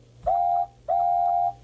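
Two clear steam locomotive whistle blasts, a short toot followed by a longer sustained tone, loud and close, with a steady pitch and nothing else around them.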